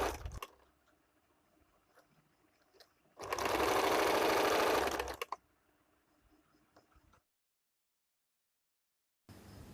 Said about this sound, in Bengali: মুহুরিটা সেলাই করে নিলাম।